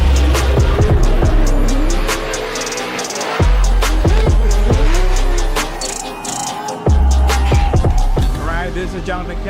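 Drift cars at a Formula Drift round in Seattle roar loudly with revving engines and squealing tires, continuous and close, with a voice talking over the noise.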